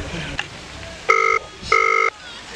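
Two clean telephone ringback or dialing tones sound in succession, each a steady electronic beep lasting about a quarter second with a short gap, preceded by faint clicks and room noise.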